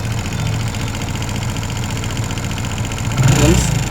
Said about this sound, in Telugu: బండి అయితే స్టార్ట్ అయింది